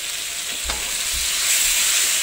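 A yogurt and cumin powder pizza sauce mixture is stirred, with a few soft low strokes under a loud, steady broadband hiss that fills the whole stretch.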